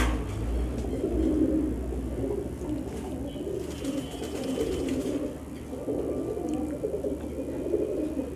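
Giribaz high-flyer pigeons coo steadily in a pet shop, a low rolling burble repeating throughout at close range with no talking.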